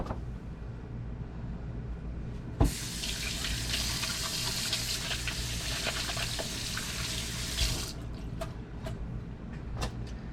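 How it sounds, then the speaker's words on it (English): Tap water runs steadily into a kitchen sink while hands are washed, a close hiss lasting several seconds, then the flow stops, leaving light clicks and drips. "I'm going to have to wash my hands"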